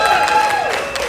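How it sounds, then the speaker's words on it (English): Audience applause at a live stand-up comedy show, a steady wash of clapping from the crowd lasting about a second with no voice over it. "applaud when I succeed."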